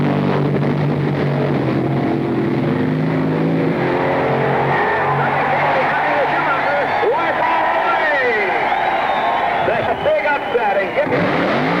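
Late-1960s drag racing cars roar past at a strip, loud engine noise and revving sweeping by with crowd sound underneath and a voice talking over it.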